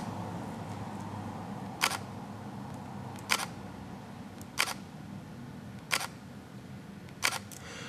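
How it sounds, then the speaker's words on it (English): Five soft mechanical shutter clicks from an Olympus OM-D E-M1 camera, evenly spaced about a second and a half apart, crisp but quiet against a low hum of room noise. "That's the sound of the shutter."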